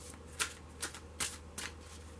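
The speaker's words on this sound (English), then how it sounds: "while I'm shuffling these cards" Tarot cards riffled and shuffled by hand, four crisp bursts in a steady rhythm, close and soft against a low background hum.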